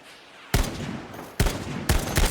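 Loud bursts of automatic gunfire in the video game Battlefield V: three distinct rapid volleys, each a dense roar of shots starting abruptly after a quiet lead-in, close and dominant with no talking.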